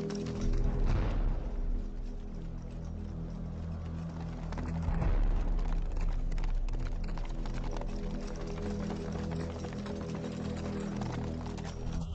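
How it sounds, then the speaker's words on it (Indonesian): A horse being ridden over rough terrain, hooves clip-clopping in a steady rhythm beneath a constant broadband wash of outdoor noise, no voices present. "Ternyata aku bisa naik kuda."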